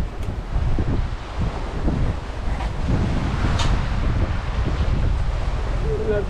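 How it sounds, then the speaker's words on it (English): Steady wind rushing past a sailboat at sea making about 6.5 knots under a gullwing sail setup, a continuous loud buffeting roar with faint water wash underneath. "Lovely breeze."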